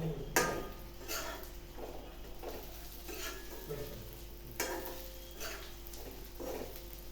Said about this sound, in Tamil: மிளகாய் நல்லா கலர் மாதிரி ஃப்ரை ஆகிடுச்சு.